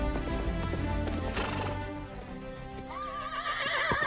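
A galloping horse runs through grass in the 2002 animated film Spirit: Stallion of the Cimarron, with a loud whinny and quick hoofbeats under a swelling orchestral score.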